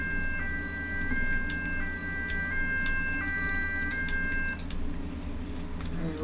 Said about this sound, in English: Right, so we've got sirens.